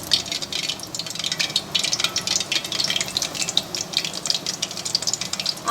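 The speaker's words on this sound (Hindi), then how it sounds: "इस तरीके से बेसन में डीप करके अच्छे से हाथों की मदद से और कढ़ाई में डालते रहेंगे।" Gram-flour coated potato and onion pakoras deep-frying in hot oil in a kadhai over a low flame, a steady close crackling sizzle with bubbling bursts and no talking.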